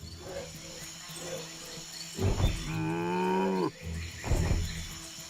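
A vampire cow in the Lego Marvel Super Heroes 2 video game lets out a long, drawn-out moo, loud and clear over soft game background ambience, framed by brief thumps before and after.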